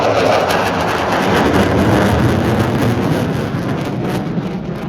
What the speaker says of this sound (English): I give you the F-15 Eagles.